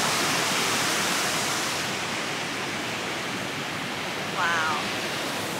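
Steady broadband roar of a waterfall rushing beside the Mist Trail in Yosemite, loud and continuous throughout, with a brief exclaiming voice near the end.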